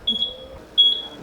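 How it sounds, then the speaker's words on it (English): Repeated high-pitched electronic warning beeps from an overheating LS-swapped Hyundai Genesis Coupe, two bursts of steady double-toned beeping about a second apart, fairly loud against a quiet engine background. "It's beeping a lot. Is it dying? It's overheating."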